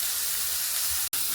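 Chicken pieces go into masala sizzling in a pan for Bangladeshi chicken dalna, giving a steady, close, fairly loud hiss with a brief dropout near the end and no talking.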